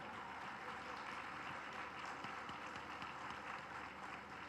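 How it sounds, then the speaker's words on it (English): Audience applause at the IMT Hyderabad 2022 convocation ceremony: a steady, distant wash of clapping from a large hall crowd, fairly quiet and even throughout with no voices. "Let's give ma'am a huge round of applause."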